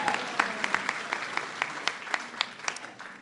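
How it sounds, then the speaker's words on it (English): An audience at an evening celebration claps in scattered applause, with sharp individual claps popping over a soft, even patter that thins out toward the end. "you can give yourselves a round of applause."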